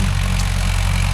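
A Mahindra 415 DI tractor engine runs steadily at close range in farmland, driving a 36-blade rotavator, with a loud, continuous low-pitched diesel drone and no pauses.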